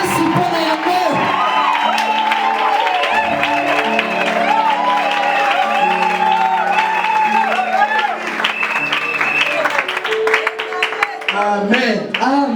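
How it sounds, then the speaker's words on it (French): A congregation applauds loudly at a wedding blessing, the clapping and cheering blended with strong harmonic tones of singing or music and voices throughout. "On applaudit très fort pour elle"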